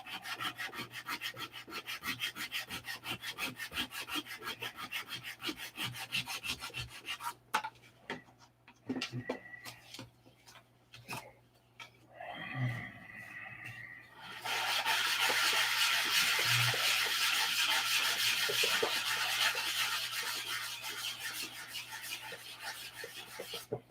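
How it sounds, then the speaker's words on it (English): Rapid back-and-forth rasping of sandpaper hand sanding wooden airplane parts, close and continuous, with brief pauses and a louder, brighter stretch of scrubbing later on. "And it's all about this, sanding."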